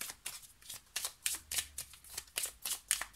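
A deck of playing cards is shuffled close by in quick repeated riffles, a steady run of crisp bursts at an even rhythm with no talking.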